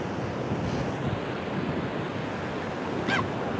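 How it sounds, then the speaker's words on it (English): Steady wind buffets an open beach with surf rolling beneath it, a continuous broadband roar with gusty swells throughout; a brief bird call cuts through near the end. "And now we're getting wind, guys. Wind."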